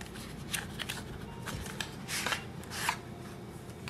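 Shiny premium playing cards from a Lord of the Rings themed deck being shuffled and handled close by, heard as several quick, crisp riffles and flicks with no talking.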